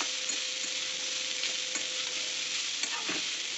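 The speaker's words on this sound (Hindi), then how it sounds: "अभी डालेंगे ये करी पत्ता, बाद में डालेंगे ये की सारे ये मंजा और इसको अच्छे से हम मिला लेंगे" Curry leaves and chopped banana stem sizzling steadily in a hot oiled pan while a spoon stirs, with loud continuous frying hiss and occasional scraping taps.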